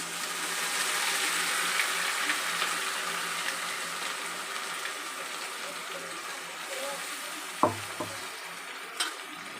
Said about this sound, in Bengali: প্রথমে পেঁয়াজ, আদা, রসুনটা দিয়ে একটুখানি হালকা ভেজে নিচ্ছি।